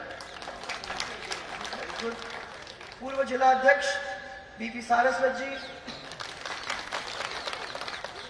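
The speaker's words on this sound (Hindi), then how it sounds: "देखो तो सही कितने अच्छी तरह से ताली बजा रहे हैं" Crowd clapping at a large political rally in Beawar, heard as a wash of applause beneath someone speaking over a loudspeaker.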